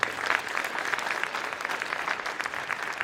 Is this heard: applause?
yes